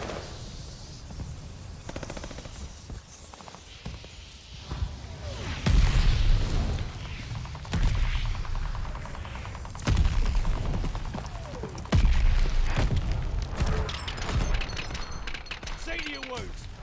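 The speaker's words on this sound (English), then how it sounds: "Allies calling a mortar barrage." Mortar barrage in the Call of Duty video game, several heavy booming explosions spaced a couple of seconds apart over rumbling battle noise and distant gunfire, with a voice speaking at moments.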